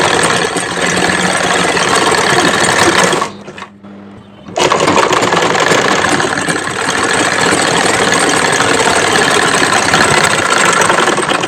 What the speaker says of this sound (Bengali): তারপরে দুটা মুখ একসাথে করে তারপরে সেলাই দিই